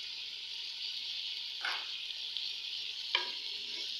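Mutton curry with meat masala, fenugreek leaves and mixed herbs stirred in a pan, a steady sizzling hiss with a few soft scraping strokes, moderately quiet and without talk.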